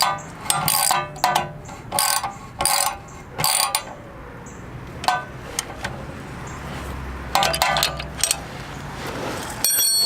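Ratchet socket wrench tightening 14 mm and 17 mm bolts on a Kawasaki Versys X 300 motorcycle center stand, in several loud bursts of rapid clicking separated by short pauses, close up.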